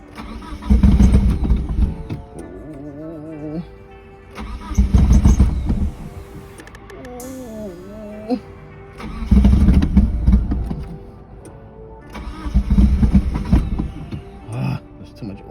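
GST car engine cranking repeatedly and struggling to start, with several long bursts of starter grinding and sputtering, likely from too much oil in a cylinder, separated by pauses in which people talk.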